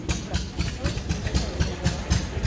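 A 1953 German tractor engine idles at a vintage transport carnival with a steady, loud, low chugging pulse of regular rapid beats, close by, with faint voices in the background.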